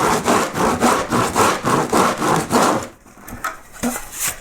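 Carved wood for Japanese clouds being rubbed back and forth, with loud, close, rhythmic rasping strokes that repeat about twice a second, then give way to quieter, scattered scuffs.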